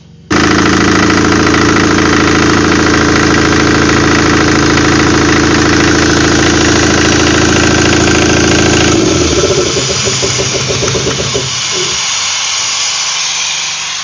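Diesel engine with a pull-to-stop knob cranking after a long preheat, catching and running at a loud, steady, clattering idle close by, the rhythm shifting and settling after about nine seconds.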